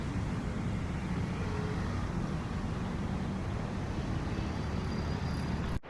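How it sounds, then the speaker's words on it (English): Heavy truck traffic rumbles along a city street, a continuous loud low roar of engines and tires that holds steady throughout, ending in a sudden sharp break. "Check out the volume of those trucks."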